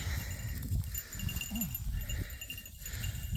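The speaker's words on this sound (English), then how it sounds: "so see the sheep here?" Sheep on a farm bleat in short wavering calls against a steady outdoor background, several bleats spread across the moment at close to moderate distance.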